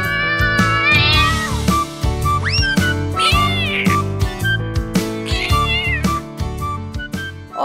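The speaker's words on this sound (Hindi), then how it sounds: "एक घने जंगल में दो बिल्लियां रहती थीं" Two cats meowing repeatedly, loud and close, in a rapid series of calls with rising and falling pitch, some drawn out and some short, over a busy musical background.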